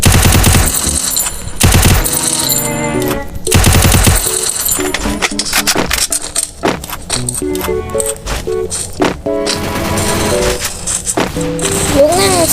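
Rapid automatic gunfire and repeated shots in a shooting video game, loud and close, mixed with game music and effects while someone talks over it.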